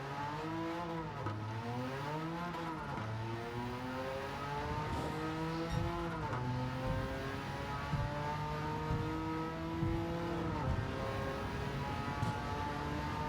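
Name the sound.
Porsche 959 race car engine in Gran Turismo 7 video game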